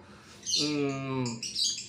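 Lovebird giving a single drawn-out, harmonic chattering call lasting about a second, preceded and followed by shorter high chirps, fairly close and clear with no talk.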